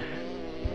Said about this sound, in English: there's a bee in here